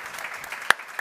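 Audience applause at an evening cultural salon discussion about Max Liebermann and the Academy of Arts in 1933, a faint, steady patter of clapping from a small crowd with a couple of sharper claps standing out.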